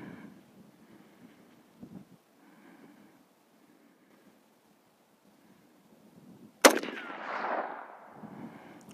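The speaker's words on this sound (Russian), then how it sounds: "делай выстрел. Под огнем." A single sharp rifle shot cracks at an outdoor shooting range during testing of a WestHunter HD 1-6x24 scope, with a trailing boom and wind noise after several seconds of near quiet.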